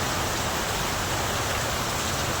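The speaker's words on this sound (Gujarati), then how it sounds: "વરસાદ બહુ ફાસ્ટ આવે છે" Heavy rain pours down steadily in Becharaji, Gujarat, a dense, continuous hiss of drops drumming on surfaces that stays loud and unbroken throughout.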